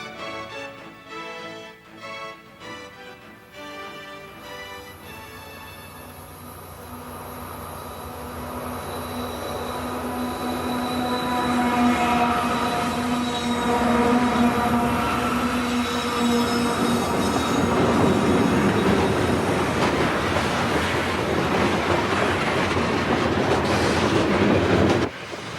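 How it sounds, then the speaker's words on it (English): A westbound St. Louis to Roseville freight manifest rolls down a steep 3% mountain grade near Pando Siding, its wheels grinding and squealing as the long train passes close and grows steadily louder, with no voices. "This westbound St. Louis to Roseville manifest is heading for a meet at Pando Siding."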